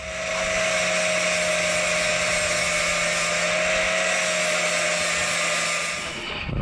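A grinder works down a weld plug on the body of an S14 car, a loud, steady high-pitched whine held for about six seconds before spinning down at the end.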